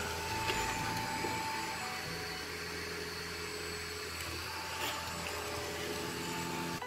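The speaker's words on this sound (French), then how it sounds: "Efficace à l'aspiration, il utilise une petite buse rétractile pour passer au plus près des plaintes." A Dyson Vis Nav robot vacuum cleaner runs steadily, giving a continuous, fairly quiet motor whine and airflow hum with faint bumps as it moves, with no talk.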